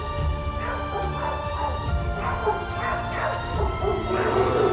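Dog barking and yipping amid a commotion as a protective mother deer charges at it, several sharp barks spread across a noisy, busy background.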